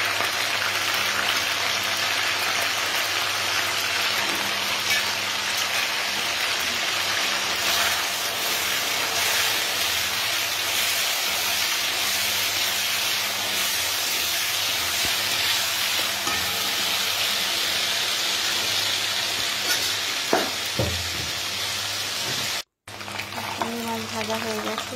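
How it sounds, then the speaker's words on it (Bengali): Prawns fry in hot oil after chicken, giving a loud, continuous close-up sizzle that holds steady, with a few light stirring clicks near the end. "এবার চিংড়ি মাছগুলো তেলেতে দিয়ে দিচ্ছি, দিয়ে চিংড়ি মাছগুলো ভেজে নেব।"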